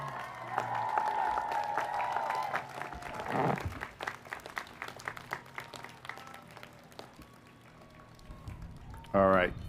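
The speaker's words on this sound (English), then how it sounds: "give a big round of applause to everyone who's made" Graduates at a college degree ceremony applaud in a large room, with faint, scattered clapping heard at a distance amid soft background voices.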